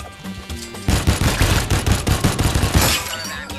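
Rapid bursts of shotgun fire in the VR game Shooty Fruity, loud, near and repeated in quick succession after a short quiet lead-in, with no talking.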